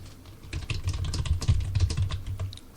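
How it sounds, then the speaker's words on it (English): Rapid typing on a computer keyboard: a dense, continuous run of light plastic key clicks close to the microphone, ending with one sharper tap. "Sorry, I'm typing."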